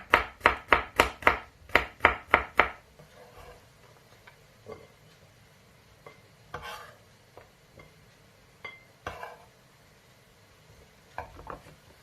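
A burst of quick, sharp knife chops slicing garlic on a cutting board, about ten in a row, then scattered quieter taps and scraping with no talking.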